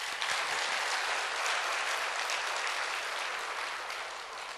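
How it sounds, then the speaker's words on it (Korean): A church congregation bursts into dense, loud applause after the choir's hymn, a steady wash of many hands clapping together with no talk over it, tapering slightly at the end. "우리 하나님께 영광의 박수를."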